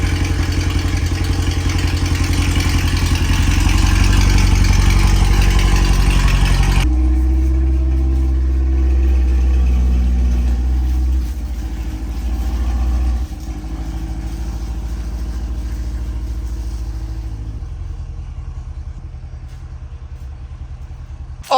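Chevrolet C8 Corvette V8 idling loudly after a cold start, a steady deep rumble that drops to a calmer, quieter idle partway through, close to the car with no talking.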